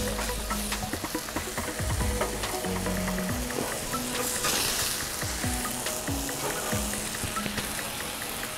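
Cheeseburgers grill on a Blackstone griddle, with loud, continuous sizzling and popping fat close up, broken by scraping clicks of a spatula against the flat top.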